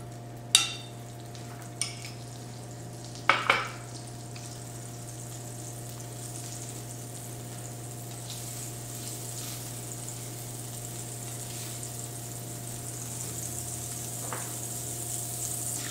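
Whole butter sizzling faintly in an omelet pan on the stove, a quiet steady hiss over a constant hum, with a few sharp clinks near the start.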